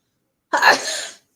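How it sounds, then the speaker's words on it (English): A single sharp sneeze bursts out close by after a moment of silence, then trails off quickly. "I'm going to sneeze, excuse me."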